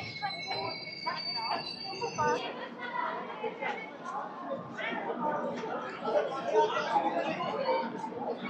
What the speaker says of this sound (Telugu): మన ట్రైన్ అయితే కాట్పాడి జంక్షన్ స్టేషన్కి అయితే వచ్చేసింది.